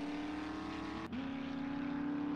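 A moving vehicle in the survival video game 7 Days to Die, a steady droning engine hum held throughout with a brief dip and a shift in pitch midway, continuous and unaccompanied by talk.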